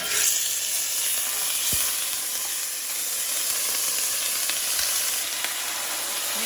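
Red chili with ground ginger and garlic frying in a pan for a Sri Lankan style fish dish, a loud continuous hissing sizzle with a few light stirring knocks, close up and without speech.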